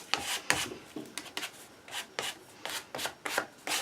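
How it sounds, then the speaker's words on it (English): Leftover paint is scraped across a background surface in short, rhythmic strokes, about a dozen close, crisp rasping swipes with brief gaps between them and no talk. "I would start applying some color to it just by scraping."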